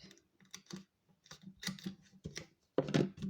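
Scissors snip and handle adhesive tape while a paper junk journal's structure and cover are assembled, giving a run of close, sharp clicks and cuts in irregular bursts with a louder crunch near the end, and no talking.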